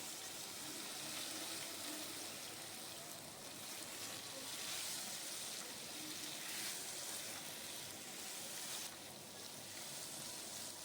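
Taro roots and potatoes fry in hot mustard oil with cumin seeds and bay leaf, giving a steady, even sizzle with a hiss that holds at one level throughout, no voices.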